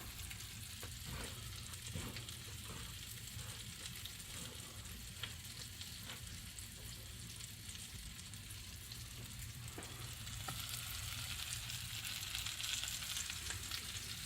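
An onion ring and pork chops fry in a pan with a steady, close, crackling sizzle that carries evenly throughout, swelling a little louder toward the end, with no talking over it.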